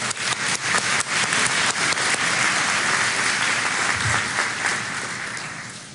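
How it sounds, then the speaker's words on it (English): A commencement audience breaks into loud, sustained applause from many hands, fading gently at the end. "Please join me in an applause for them."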